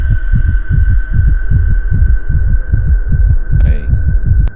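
A fast, steady heartbeat thumps about twice a second, deep and close, over a low continuous hum.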